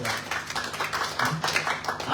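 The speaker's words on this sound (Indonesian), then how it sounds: "Berikan tepuk tangan untuk Tuhan Bapak Ibu saudara." A church congregation claps together in sustained, dense applause during a worship service, the steady clapping filling the space at moderate loudness.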